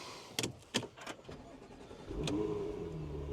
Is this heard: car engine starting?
yes